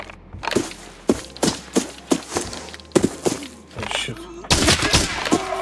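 Gunfire in the shooter game Arena Breakout Infinite: a string of sharp, loud single shots spaced roughly half a second apart, then a denser rattling burst of fire at the end, with no talk.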